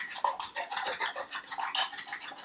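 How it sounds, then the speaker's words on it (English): Two eggs being whisked by hand in a bowl for an omelet, a steady scraping, rhythmic swish with repeated strokes, close and moderately loud with no talking. "I'm going to whisk them up."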